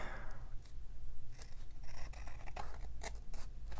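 Scissors snip through paper close up, a series of crisp cuts over a low background hum, no talking.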